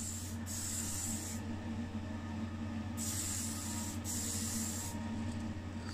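Base coat sprayed onto a part during an Alfa Romeo P33 Pininfarina restoration: a few loud, steady hissing bursts from a spray gun, separated by short pauses, over a constant mechanical hum.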